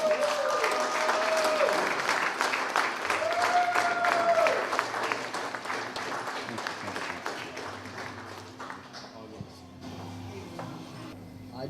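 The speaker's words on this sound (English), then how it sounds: "I want you to give a big round of applause for Mr. Kent Twitchell." Sustained audience applause in a hall for the artist Kent Twitchell, a dense wash of many hands clapping that stays steady for most of the stretch and slowly thins toward the end.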